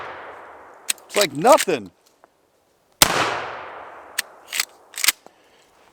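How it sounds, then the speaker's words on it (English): A Henry Lever Action Axe .410 fires into a dirt berm outdoors, one sharp, loud shot with a decaying echo, followed by a few lighter metallic clicks of the lever action, with someone speaking briefly before. "So I'm going to shoot into the berm here, and you can check it out."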